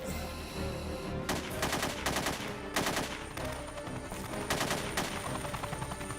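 Rapid bursts of gunfire from high-caliber bullets in the video game Parasite Eve 2 crackle in clustered volleys over a dense, busy game soundscape, loud and close, with no talking.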